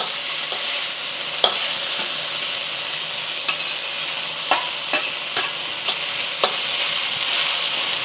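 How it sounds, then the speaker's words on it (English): Garlic frying in a pan beside the other ingredients of a Thai basil beef stir fry, a loud steady sizzle with periodic spatula clicks and scrapes, close up and without speech. "I'm just going to push the ingredients to the side and add my garlic."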